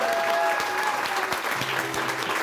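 Crowd applauding at a community memorial gathering, a dense burst of close clapping that stays loud and steady throughout, with faint voices mixed underneath.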